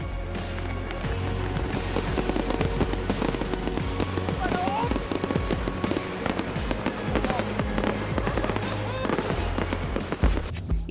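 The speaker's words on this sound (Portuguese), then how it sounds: "Eis o conceito do espetáculo pirotécnico que encerrou a celebração do Dia da Unidade Alemã" Pyrotechnic show closing the German Unity Day celebration in Berlin, set off by an automatic fireworks machine: a dense, continuous barrage of loud bangs and crackles with rumbling low booms and whistles throughout.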